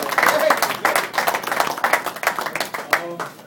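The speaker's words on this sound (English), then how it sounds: "I want you to give a big round of applause to Will Power Rosinski" Audience clapping and cheering for fighter Will Power Rosinski at a Holiday Havoc 2010 fight event, a burst of uneven claps and shouts close by, with voices calling out over it.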